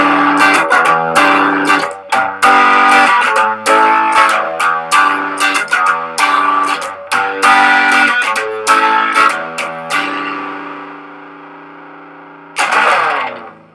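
A heavily distorted electric guitar plays the dominant seventh sharp nine chord in a series of loud rhythmic strums and stabs, then rings out and fades before a final struck chord.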